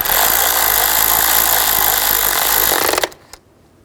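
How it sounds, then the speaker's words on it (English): A bolt holding an ignition coil is tightened on a 2010-16 Buick Lacrosse engine during a spark plug change, with a loud, close, continuous buzzing whir for about three seconds that then cuts off abruptly. "Tighten down the bolt"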